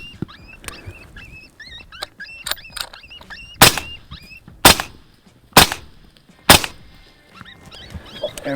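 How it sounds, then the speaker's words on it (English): Rifle shots fired at mangy coyotes during a Colorado hunt, four sharp cracks spaced about a second apart, loud and close, among yipping coyote calls and brief quiet talk. "I'm gonna shoot this front one real quick here."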